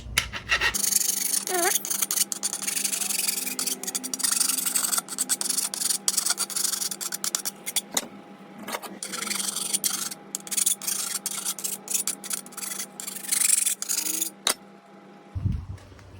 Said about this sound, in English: Let's file this down so we don't cut ourselves.